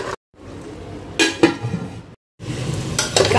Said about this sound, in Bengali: মাটনটাকে এভাবে নাড়ানো